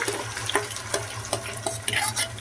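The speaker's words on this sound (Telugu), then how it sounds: "ఆ టమాటో జ్యూస్ని కూడా దీంట్లో అయితే యాడ్ చేసుకుందాము" Blended tomato juice with a little ginger goes into a hot pan of frying gravy and is stirred, giving a dense close sizzle broken by quick scrapes and taps.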